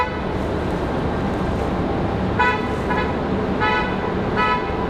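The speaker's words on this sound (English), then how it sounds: "Is that somebody honking at me?" A few short car horn toots sound at a distance over a steady roar of airport and road traffic at Raleigh-Durham International Airport, arriving in a loose, irregular series.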